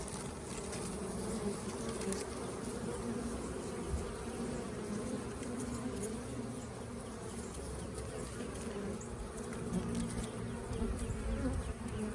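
Honey bees buzz at a hive being fed fondant and pollen patties. A dense, steady hum of many insects carries on unbroken, moderately quiet and with no voices.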